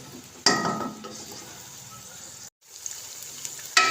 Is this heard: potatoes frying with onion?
yes